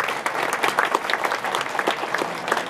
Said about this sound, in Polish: Gigantyczne brawa również poproszę.